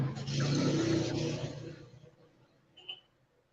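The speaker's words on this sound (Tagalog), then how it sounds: "ang lakas ng tunog ng ano, ng jeep at motor" Jeepney and motorcycle engines roar loudly outside a house: a strong, broad engine rumble that swells, then fades away over a couple of seconds, followed by a faint brief sound near the end.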